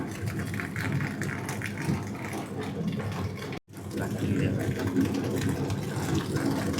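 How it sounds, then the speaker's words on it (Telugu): Tamarind juice pours into a pan with a steady splashing, bubbling rush, briefly interrupted by a short gap before continuing. "ఇప్పుడు చింతపండు రసం పోసుకుంటున్నామండి"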